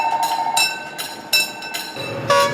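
Train at Hadong station on the soon-to-close Gyeongjeon line, a tonal rail screech with rhythmic bursts and rumble, close and fairly loud, with no talk.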